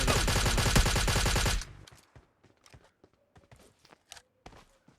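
Rapid automatic M4 rifle fire in a mobile shooter game, a loud dense burst lasting about a second and a half, then quiet with scattered footsteps and small clicks of movement, no voices.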